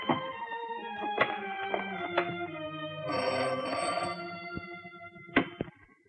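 An old landline telephone rings for an incoming call, repeated bell trills with short gaps and a few thumps, fairly close in a quiet room, no voices.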